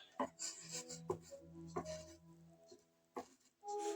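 Scraped match strike powder being stirred and mixed in a container, heard as quiet clinks, scrapes and taps in short irregular bursts.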